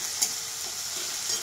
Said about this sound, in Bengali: আজকে কিন্তু আমি চিকেনটাকে বেশি ভাজবো না, হালকা ভাজবো।